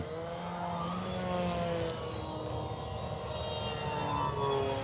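An Arrows Prodigy 1.4m RC model airplane flies steadily at low throttle, its electric motor giving a continuous, moderately distant drone that holds even across the whole stretch with no talking.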